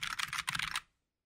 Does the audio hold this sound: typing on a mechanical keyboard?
yes